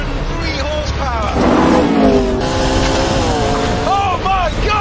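A McLaren P1 supercar with 903 horsepower accelerates hard, its engine note climbing in loud revving sweeps, with shifts and a shouting voice over it.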